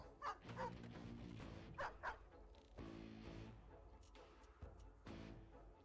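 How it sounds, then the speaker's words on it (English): Dogs bark and yip repeatedly in the Stormgate real-time strategy game, several loud bursts overlapping with game sounds, with someone speaking briefly between barks. "where the fuck are all these dogs?"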